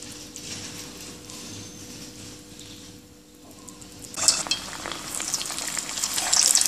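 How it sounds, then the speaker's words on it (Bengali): Black seed (kalojira) pakoras drop into hot oil, and a low, quiet bubbling swells into a brighter, louder sizzle over the last seconds. "ছোট ছোট করে পাকোড়া বানিয়ে গরম তেলে ছেড়ে দিব।"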